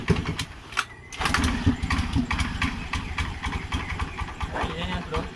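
A Honda Beat scooter with a popping exhaust is restarted and idles roughly, its small engine putting out uneven, sputtering pulses up close, with a brief gap near the start and occasional background talk.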